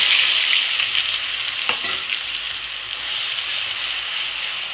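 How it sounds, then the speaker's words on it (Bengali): Masala hits the hot oil left over from frying eggs for an egg curry and sizzles steadily up close, with a brief clatter of a spoon partway through. "ডিম ভেজে নেওয়ার পরে সেই তেলে আমি এই মশলাটা দিয়ে দিচ্ছি।"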